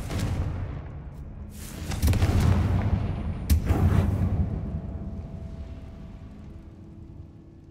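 Blasting-spell explosions from a video game: two heavy booming blasts about a second and a half apart, each with a bright crackling burst, then a long rumbling decay into fading debris noise, no voices.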